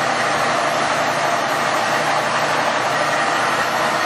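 A metal lathe with a D16 cam lock spindle, one-piece cast iron bed, running at 630 RPM, giving a steady, loud, unbroken broadband whir that holds constant throughout.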